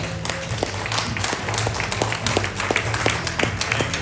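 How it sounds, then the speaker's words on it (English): Sparse applause from a festival audience in Whitehall, NY, greeting a speaker: scattered individual claps over a low steady hum and background murmur, continuous for the stretch. "Give him a round of applause"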